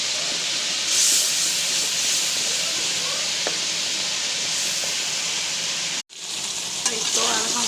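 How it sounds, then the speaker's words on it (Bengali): Turmeric, chili, ginger and garlic fry in a pan with cinnamon, bay leaf and salt, giving a loud, steady hiss and sizzle close by that briefly drops out near the end. "ভাজা হয়ে গিয়েছে"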